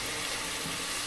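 Frozen king prawns fry in a very hot pan for chow mein, making a dense, steady hiss of sizzling that is loud, close and unbroken for a brief moment.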